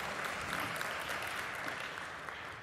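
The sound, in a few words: audience applause at engineering symposium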